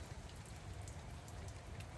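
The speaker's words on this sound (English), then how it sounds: "It's raining outside." Steady rain falls outside next to a parked van, a dense, even hiss of drops that continues without a break for the whole moment, with no voices.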